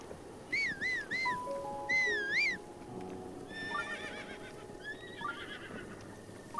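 A horse whinnies several times in high wavering calls, with soft hoof clip-clops and game-like ambience underneath in The Legend of Zelda: Breath of the Wild; no talking.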